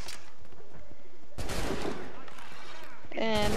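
Enemy gunfire in Assassin's Creed III, a few sharp broadband shots bursting in partway through over game ambience, with a voice talking and some chirpy sounds near the end.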